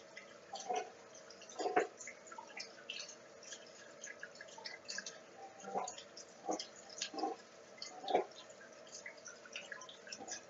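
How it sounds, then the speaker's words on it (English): Steady, faint dripping and drizzling water keeps going underneath a tabletop board game session, with small irregular drips popping out now and then. "Sounds like constant water drizzling."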